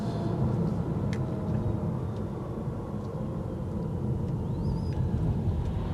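MG ZS EV electric car driving, a steady low road and tire rumble with wind hiss inside the cabin, a few faint clicks and a brief high electronic tone near the end.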